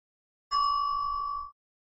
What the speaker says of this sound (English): And there you heard the bell sound